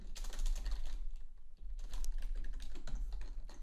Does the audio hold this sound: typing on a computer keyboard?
yes